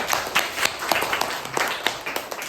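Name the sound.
classroom children clapping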